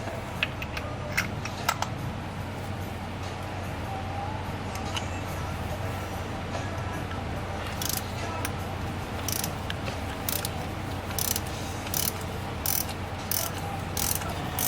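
A ratchet with a spark plug socket works on the spark plugs of a Toyota FJ Cruiser with about 91,000 miles, making rapid clicking bursts that become denser toward the end over a steady low engine-bay hum.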